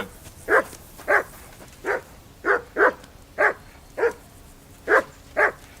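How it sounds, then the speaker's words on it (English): A dog in Kingdom Come: Deliverance 2 barks repeatedly at a steady, spaced rhythm, about ten clear mid-distance barks with no talking between them. "Whistle at that mutt of yours to stop barking."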